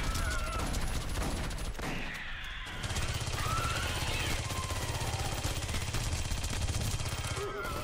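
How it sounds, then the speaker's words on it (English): Submachine gun fire in the sci-fi shooter Aliens: Colonial Marines, sustained rapid bursts running almost the whole time beneath dense game noise, with a short lull near the start before the shooting resumes. "SMG is really accurate"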